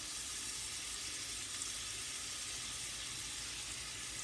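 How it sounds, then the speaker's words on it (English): Turkey breast tenderloin sizzling in butter in a pan on a stove over medium-low heat, a steady, soft, hissing fry that runs evenly throughout with no voices. "I'm going to go ahead and lay this side down"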